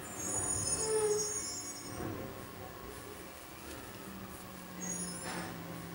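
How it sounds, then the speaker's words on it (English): A large truck rumbles in the background with high metallic squeals and hissing air brakes, fairly distant and quiet. "You probably can hear the garbage truck out in the background."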